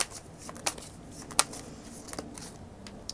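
Tarot cards being shuffled by hand, a continuous close riffling and rustling with several sharper slaps of cards, fairly soft overall and with no talking.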